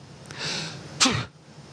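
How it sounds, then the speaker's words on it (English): A single close sneeze in space: a breathy inhale building up, then a sharp explosive burst that trails off quickly. "I'm going to sneeze."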